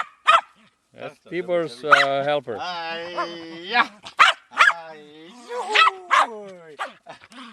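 A local dog at a rural home in 1996 lets out several short barks and yips, mixed with whimpering cries, close by and interleaved with people talking.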